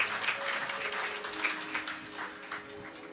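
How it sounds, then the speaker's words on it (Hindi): Audience applause at a Shiv Mahapuran katha gathering in Korba, Chhattisgarh, a steady wash of clapping lasting about three seconds, moderately distant, with a faint sustained tone running underneath. "एक बार इन सभी के लिए जोरदार ताली बजाकर स्वागत अभिनंदन"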